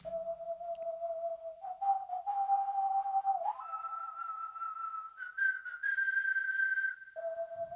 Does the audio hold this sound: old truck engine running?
no